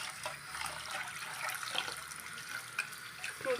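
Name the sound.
tap water running while washing flattened rice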